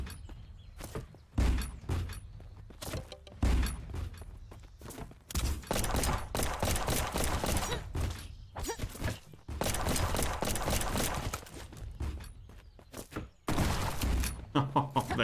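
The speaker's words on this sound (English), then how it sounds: "That shotgun is amazing." Shotgun blasts in the video game Black Skylands, several loud, sharp bursts scattered among game sounds, with a person talking over them.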